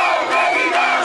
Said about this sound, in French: la foule scande un seul nom.